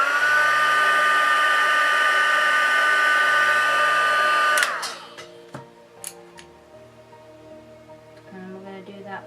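A heat tool runs with a steady, loud blowing whir for about four and a half seconds while heat-setting paint on doll legs, then cuts off, leaving quiet handling clicks and soft rustles.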